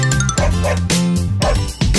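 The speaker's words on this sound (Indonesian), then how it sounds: "Aku lihat anjing Guk, guk, guk" A dog barks several times in quick, loud bursts over a bouncy, tuneful backing melody from an Indonesian children's song.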